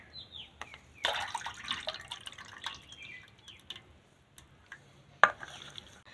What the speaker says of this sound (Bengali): সব চালতা থেতো করা হয়ে গেছে, ভালো করে জল দিয়ে ধুয়ে নেব।